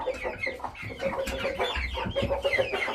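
Chickens cluck close by in a busy, irregular flurry of short calls that overlap and repeat throughout, loud and clear with no talk over them.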